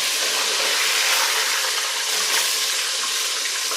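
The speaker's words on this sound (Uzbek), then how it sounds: "Mana nihoyat tovuqlarimizni ham qovurib oldik" Home-cooked chicken pieces fry in a hot pan with a steady, close sizzle of spitting oil, a bright continuous crackle that runs evenly throughout without any talk.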